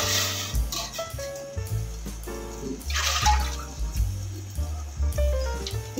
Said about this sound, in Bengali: তাই 4 বাটি জল আমি এই পাত্রে গরম হতে দেব